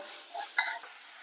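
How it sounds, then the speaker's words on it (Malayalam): Chopped onion sautéing with salt in a pan for a broccoli masala curry: a soft, low sizzle with a few brief stirring scrapes of the spoon, quiet and close, with no talking. "ഒന്നൊരു ബ്രൗൺ കളറാവണ വരെ വഴറ്റിയെടുക്കുക"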